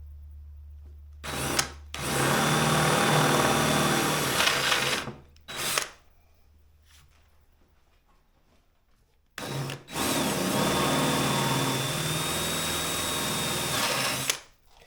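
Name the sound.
drilling a 3/8 inch hole with a drill bit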